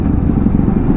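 Motorcycle cruising on a highway during a group ride from Ranchi to Hazaribagh, a steady loud low engine drone with rumbling wind noise, continuous and close throughout.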